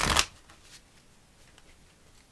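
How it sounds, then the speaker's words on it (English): A tarot card deck is shuffled once in a quick, loud riffle that fades into near silence, with no talking. "let's do one more shuffle, and then we'll divide up the deck"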